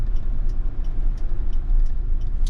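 A steady, low engine drone from inside a moving Kia Bongo 3 double-cab automatic small truck, constant and moderately loud with faint ticking on top.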